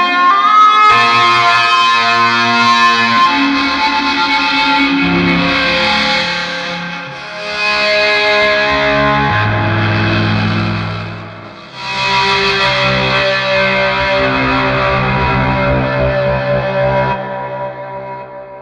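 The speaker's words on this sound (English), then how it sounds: "I've got it on the heavy metal guitar sound with a lot of gain." A LinnStrument played through an amp simulator set to a high-gain heavy metal guitar tone, giving sustained, thick distorted chords with echo and chorus effects, swelling and shifting across the passage with brief dips between phrases.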